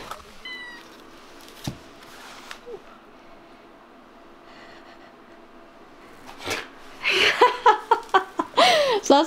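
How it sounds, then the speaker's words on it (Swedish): A cat meows in a home, quiet at first and then breaking into a burst of several close, loud, rising meows in quick succession, with soft breathing and faint laughter around it. "som ni ser så har vi gått och blivit med katt"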